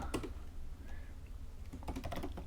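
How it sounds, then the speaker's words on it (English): Fingers type on a computer keyboard in a short burst of close, clicky keystrokes, then pause briefly before another quick run of taps. "I'll just type in my name"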